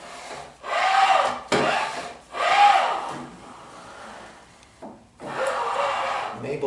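A Woodpecker miter gauge slides back and forth in a table saw's T-slot with a dry wooden rubbing rasp, three close sliding strokes with short pauses between.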